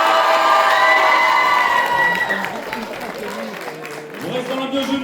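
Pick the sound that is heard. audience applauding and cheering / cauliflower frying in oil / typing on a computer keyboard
audience applauding and cheering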